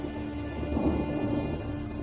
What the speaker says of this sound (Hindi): काकाडू के तूफानों की गिनती दुनिया के सबसे बड़े तूफानों में होती है।